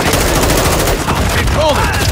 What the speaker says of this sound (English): Taking fire! Taking effective fire!